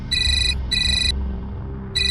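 A phone ringtone plays in a home, sounding in three electronic bursts with short gaps between them, clear and close over a low room hum.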